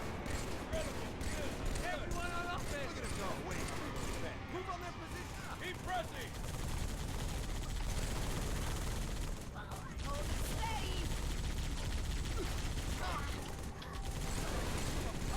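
Rapid automatic gunfire and explosions from the Halo 3 campaign on Legendary difficulty crackle continuously under a player's excited talking.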